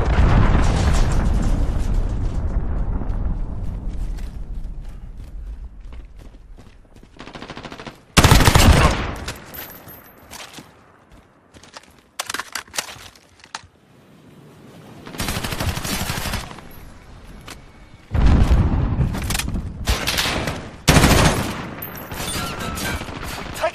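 In a night-mode match of the shooter Modern Warfare, a cruise missile strike lands as a long heavy rumbling blast, followed by scattered loud bursts of automatic gunfire and booms between quieter stretches.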